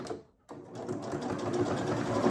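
A sewing machine stitches a quilted zipper pouch with batting, a steady close whirring run of rapid stitches after a brief pause.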